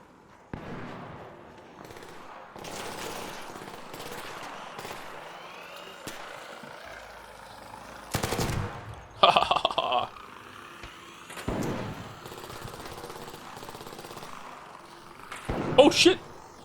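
Gunfire in the game Arc Raiders comes in scattered bursts and single cracks over a low hum of ambience, some shots distant and a few louder and nearer toward the end, with a voice speaking at points.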